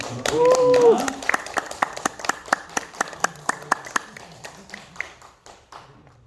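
Audience applause greets a hospital internal medicine chief arriving to give a lecture on anticancer immunotherapy, beginning as a dense burst of clapping and thinning into separate claps that fade out by the end.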